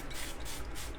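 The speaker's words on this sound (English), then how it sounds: "first step to apply any decoupage paper is to gently spray mist the back" A spray bottle mists water onto the back of decoupage paper, giving two soft, close hissing puffs in quick succession.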